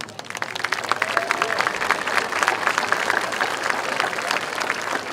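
A graduation audience gives a round of applause: dense, steady clapping from a sizeable crowd fills the space for several seconds at an even, fairly loud level.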